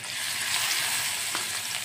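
Fish dropped into hot fish oil for a fish curry, frying with a loud, dense, steady sizzle and crackle throughout.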